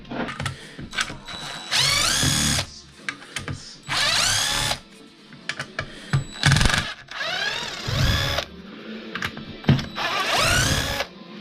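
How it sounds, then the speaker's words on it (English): Power drill driving screws back in during maintenance work; several short, loud whirring bursts rise in pitch as each screw spins in, separated by pauses with small clicks and handling noise, close up, no talking. "I'm putting them 2 screws back in just until I get these 4 here out."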